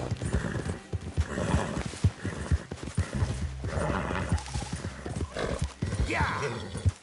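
A horse in Red Dead Redemption 2 clip-clops at a steady gallop with an occasional whinny, its hooves rolling under nearly continuous talk from a rider.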